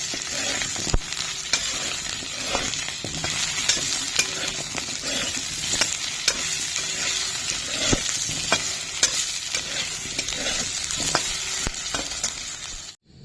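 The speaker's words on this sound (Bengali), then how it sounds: "তেলের মধ্যে আলুটা ভেজে তুলে নেবো" A potato frying in oil in a pan, a loud continuous sizzle and crackle up close with occasional knocks of a utensil against the pan.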